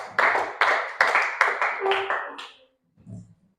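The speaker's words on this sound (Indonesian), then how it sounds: "Mantap, tepuk tangan." Students in a classroom clap hands in an even, rhythmic sequence of about seven sharp claps with voices underneath, ending abruptly before a brief low murmur.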